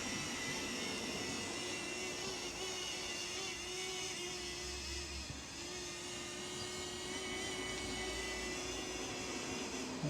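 A small DJI Flip camera drone lifts off and flies, its steady high-pitched propeller whine holding loud and close throughout with no voices.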